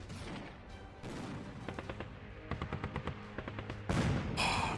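Tank guns firing in a tank-battle trade game: rapid bursts of sharp shots in quick rhythmic clusters over a low rumble, ending with a heavier, louder blast.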